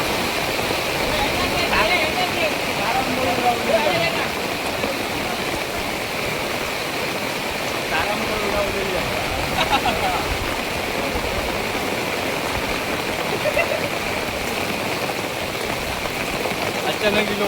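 Heavy rain pours steadily as a dense, even roar that stays loud and unbroken throughout, with no pauses or gaps.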